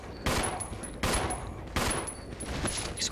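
Bursts of rapid gunfire from the game Resident Evil Zero repeat about every second, sharp and loud, like automatic weapons firing in an intense exchange.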